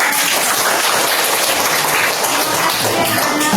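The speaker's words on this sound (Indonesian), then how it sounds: "Sekarang tepuk tangan." Class of schoolchildren claps their hands together in a busy, continuous patter of many small claps, fairly close and steady, with no talking over it.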